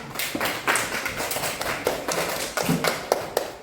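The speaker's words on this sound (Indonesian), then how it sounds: "kita beri tepuk tangan untuk kelompok 2" A class of students claps for a presenting group in a religious education lesson, uneven scattered hand claps with sharp individual hits, moderately close and without talk.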